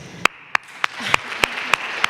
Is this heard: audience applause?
yes